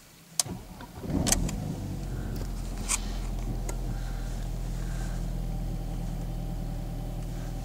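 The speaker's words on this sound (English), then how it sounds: "Now I'm going to start the engine here" A BMW E36 engine cranks with a few sharp clicks and catches, then settles into a steady, low, even idle close to the microphone.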